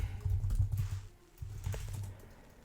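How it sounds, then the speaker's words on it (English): Typing a password on a laptop keyboard: two quick bursts of close, soft key taps, one early and one after a brief pause, with no talking. "So I'm going to type in my password for my laptop."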